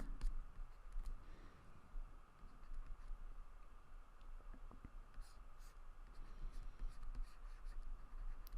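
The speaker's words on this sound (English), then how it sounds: "I'm still just sketching this out" Pencil sketching on paper, a soft steady scratching and rubbing with faint strokes throughout, quiet and close, with no talk.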